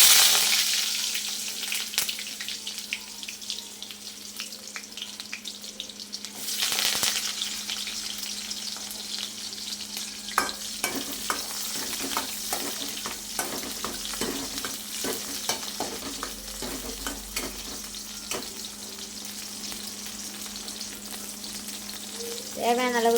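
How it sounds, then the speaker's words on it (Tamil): Fenugreek seeds and small shallots fry in hot oil for an okra kara kuzhambu, a continuous close sizzle with bursts of crackling and scattered clicks of stirring, and a louder splattering flare partway through. "வெந்தயம் நல்லா பொரிஞ்சதுக்கப்புறம் சின்ன வெங்காயம்,"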